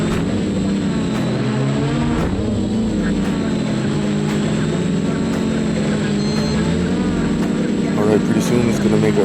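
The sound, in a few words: home-built quadcopter drone flying a waypoint mission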